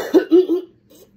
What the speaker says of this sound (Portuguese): Desculpa a tosse, gente.